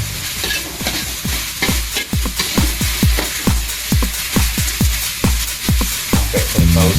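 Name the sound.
stirring Indonesian dish frying in pan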